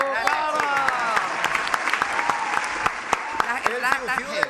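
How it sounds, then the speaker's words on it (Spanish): Studio audience on a Spanish-language entertainment show claps in a sustained burst of applause with sharp individual claps, while cheers and whistles rise over it. "¡Fuerte el aplauso"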